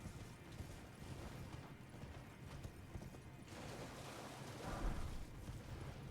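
In Elden Ring, an elevator mechanism rumbles and grinds continuously at moderate volume, with a heavier mechanical clunk near the end as it comes to a stop.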